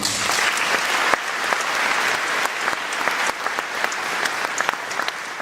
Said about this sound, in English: How about one more round of applause for both of our speakers this morning.